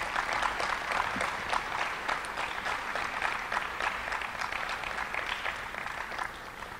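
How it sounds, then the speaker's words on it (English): An audience at a scholars' graduation applauds itself, with steady and fairly distant clapping that is moderately quiet and continues evenly before easing slightly at the end. "I think you need to give yourselves a round of applause"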